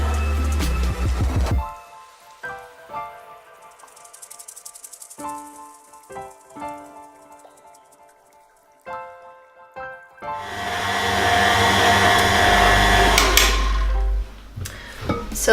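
A home stand mixer kneads Hokkaido milk bread dough made with the tangzhong method, giving a steady motor whine with irregular soft knocks and thumps, then a louder, fuller churning stretch near the end.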